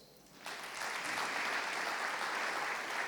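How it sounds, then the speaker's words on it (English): A round of applause at the closing ceremony of an African football summit, starting abruptly and continuing as a steady, broad wash of clapping from a large audience. "the work which has been done needs a round of applause"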